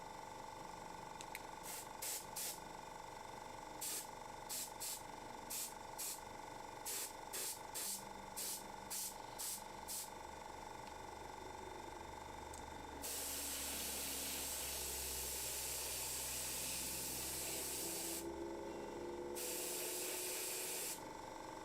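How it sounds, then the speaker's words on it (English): An airbrush sprays white paint onto a Warhammer miniature, with a run of short rhythmic hissing bursts giving way to longer continuous sprays that pause briefly and resume, close and fairly soft over a steady low background. "this white requires airbrushing"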